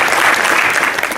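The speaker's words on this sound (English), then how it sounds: "Give yourself a round of applause for Gaza" A conference audience breaks into dense, steady applause, loud and close, many hands clapping at once with no gaps, holding full strength through the moment.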